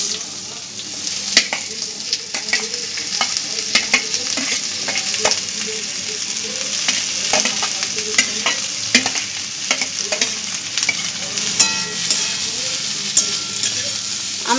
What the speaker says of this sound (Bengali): পেঁয়াজগুলো একটু আমি ভেজে নিচ্ছি